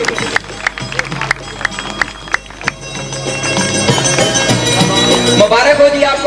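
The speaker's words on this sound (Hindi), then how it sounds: "तालियां इनके लिए" An audience at an Independence Day show in a Pakistani village claps in a rising, mixed burst of applause with crowd murmur, starting with scattered claps and swelling into steady clapping.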